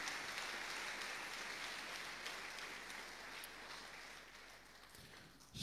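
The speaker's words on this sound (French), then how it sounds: "Encore une fois, applaudissez-les s'il vous plaît" Audience applause for graduates at a graduation ceremony, a steady faint patter of many hands clapping with no voices over it, fading slightly toward the end.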